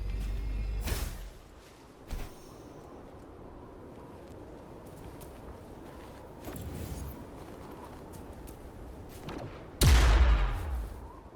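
Explosions from the Wuthering Waves video game, set off with tacitite fulminate to blast an opening in a disk: a few sharp, loud booming bursts separated by quieter rumbling game ambience, the last blast the strongest.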